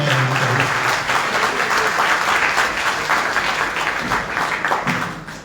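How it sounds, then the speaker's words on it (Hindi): An audience at a school event in Lucknow, a program for Atal Bihari Vajpayee's birth anniversary, bursts into sustained, dense clapping that holds steady and then fades at the end. "जोरदार तालियां होनी चाहिए"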